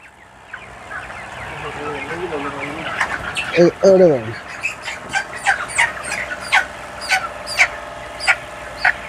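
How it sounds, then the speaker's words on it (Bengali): Chickens in a poultry shed cluck and squawk repeatedly in short, loud bursts, with a sharper calling sequence midway, while people talk nearby. "মোটামুটি বাইরে যায় নাকি মুরগি?"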